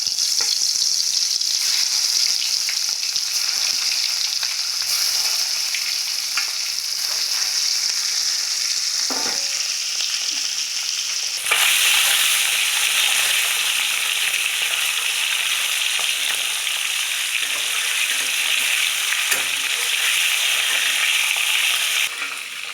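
Cauliflower florets fry in oil in a pan with a loud, steady, dense sizzle that grows brighter and fiercer halfway through, with faint stirring scrapes and no talking.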